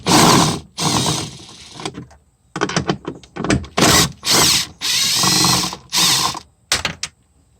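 A ratchet with a deep socket backs out 10mm nuts holding the third brake light on a 1999–2004 Mustang. It is loud and close, with rapid clicking runs broken by short pauses.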